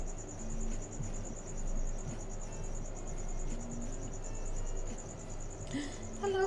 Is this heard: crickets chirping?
yes